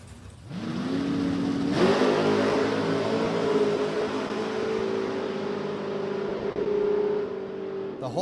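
A Fox body Mustang and a Camaro drag racing at a motorplex, engines idling loudly then revving up hard with a sustained droning roar up close, faint crowd or announcer voice beneath.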